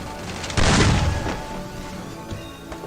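Gunfire from the video game Free Fire during a live stream: a loud, booming burst of shots hits suddenly, then trails off into a rumbling, noisy in-game background.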